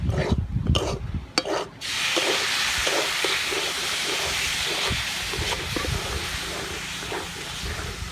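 Sugar syrup poured into a besan mixture in a hot pan for besan burfi: after a few short knocks and scrapes, a loud steady hiss and sizzle holds for the rest of the clip with faint repeated stirring scrapes.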